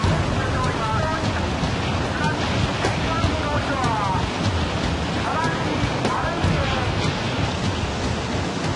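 Tsunami floodwater surging through town streets in Japan, a dense, roaring wash of rushing water with constant broadband noise and some wind buffeting, loud and unbroken throughout.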